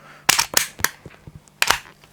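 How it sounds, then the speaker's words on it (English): A faulty Crosman 766 multi-pump pneumatic air rifle fires weakly, giving a few sharp but thin close-up pops and clicks in quick succession, then one more pop a moment later. "Now, it fired that time, but it's obviously very weak."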